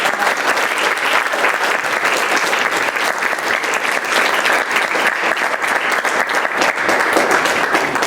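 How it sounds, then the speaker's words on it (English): A convention audience in Dallas gives a panel a loud, continuous round of applause, thick steady clapping close by that fills the whole stretch with no speech. "Let's give our panel one last round of applause."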